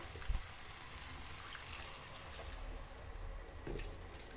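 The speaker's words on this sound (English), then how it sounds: "And then lastly, the chicken broth." Chicken broth poured into a pot of rice for chicken pilau, a soft steady liquid trickle heard close up with a brief knock near the start.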